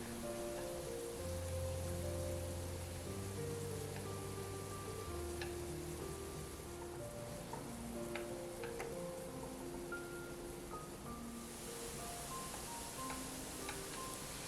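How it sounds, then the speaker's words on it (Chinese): Tofu pan-fries in oil over low heat, giving a faint, even crackling sizzle like light rain that stays steady throughout, with a few soft clicks and a quiet background hum. "在锅中倒入油，然后把豆腐放入。"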